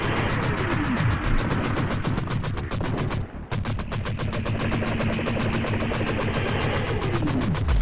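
A heavy machine gun in the arcade version of the shooter game 勇士们 fires in a dense, nonstop rattle of rapid shots, loud and continuous with a barely noticeable break midway.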